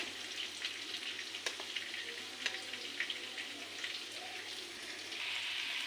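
Potatoes fry in a pan with a soft, steady sizzle and crackle and an occasional faint clink, fairly quiet and close, with no voices.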